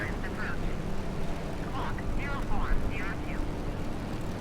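Airplane engine in the video game Microsoft Flight Simulator, a steady low droning roar held throughout, with a person talking over it.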